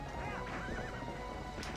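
Horse neighing in the video game The Legend of Zelda: Twilight Princess, a clear rising-and-falling whinny near the start, with hoof clip-clops and game ambience around it.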